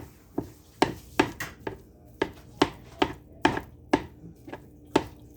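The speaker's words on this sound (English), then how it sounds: "we're just going to give this a fine chop up. Get this browning." Ground beef browning in a pan is broken up with a utensil, making a brisk series of a dozen or so sharp, close chopping knocks against the pan over a faint sizzle.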